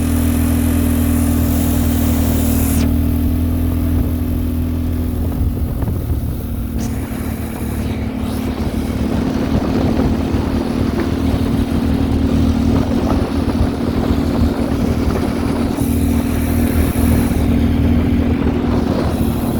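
Small mini go-kart engine running steadily on dirt trails, a loud continuous mid-pitched drone with slight bogging and wavering load throughout, close up with no talk.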